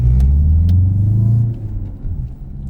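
A Peugeot 508 SW with a 2-litre engine revving, a loud deep rumble heard from inside the car that swells for about a second and a half, then drops to a lower idle.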